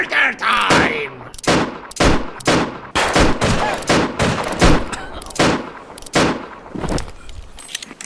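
A video game shootout with raiders in a post-apocalyptic setting: loud, close bursts of gunfire, around a dozen sharp shots in an uneven rapid rhythm, with no talking.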